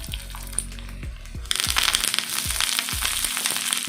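Mustard seeds, chana dal, urad dal, one dried red chili and curry leaves in hot oil: low rhythmic swooping tones give way midway to a loud, dense crackling sizzle that carries on to the end.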